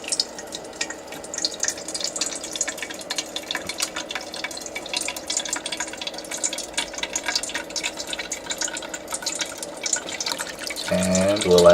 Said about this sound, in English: we just want to pour the basket up with solution and give it a second to drain down